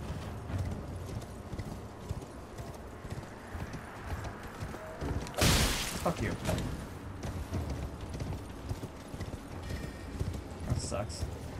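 Horse hooves clip-clopping in the video game Elden Ring, a steady trotting rhythm under a voice, broken midway by a loud burst of impact noise.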